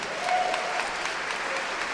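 Applause from a church congregation during a sermon, a dense steady wash of many hands clapping together, loud and continuous throughout.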